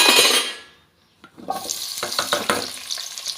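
Cinnamon, cloves and star anise frying in sesame oil in a kadai, a loud hiss that fades briefly, then returns as crackling sizzle with stirring scrapes.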